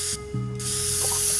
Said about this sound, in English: But if you use a spray can